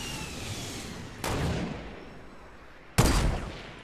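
Two sharp sniper rifle shots in Fortnite, one near 1.2 s and a louder one near 3 s, each a broadband crack with a decaying tail over steady game ambience.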